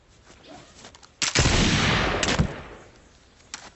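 A musket fired at a potato tossed high into the air: one loud, close blast at the start with a rolling tail that lasts over a second, then quiet.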